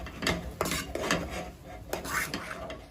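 A semolina mixture is stirred in a pan on the stove, with repeated scraping spoon strokes against the metal in an uneven rhythm. The strokes are close and moderately loud, with no talking.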